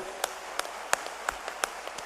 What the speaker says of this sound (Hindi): तालियों की गड़गड़ाहट से हम इन दोनों का स्वागत करें।